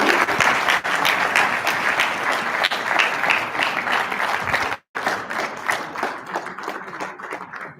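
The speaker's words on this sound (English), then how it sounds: "Can we please have a round of applause for Dr. Shobha Tandon?" Conference audience applauding to welcome Dr. Shobha Tandon, dense continuous clapping from a large crowd in a hall, loud and sustained with a brief cut midway.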